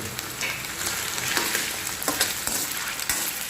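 Potatoes fry in a pan while being stirred, a steady crackling sizzle with soft scraping bursts throughout, close and moderately loud with no talk.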